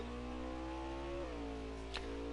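A race car engine in a racing simulation game at Road America holds a steady droning tone that drops in pitch midway as the car lifts or shifts, continuous and fairly loud, with no talking.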